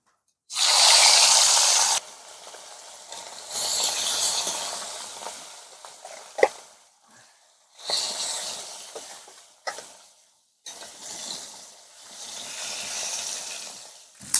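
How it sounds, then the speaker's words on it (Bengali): Rohu fish pieces added one by one to hot mustard oil, each setting off a loud burst of hissing sizzle that fades between additions, with small clinks of utensils in the gaps. "গরম হয়ে গেছে এবার এক এক করে মাছগুলো ভেজে নেবো"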